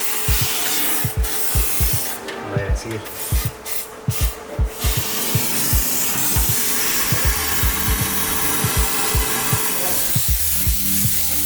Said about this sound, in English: to go find a can of primer that would sync up with this adapter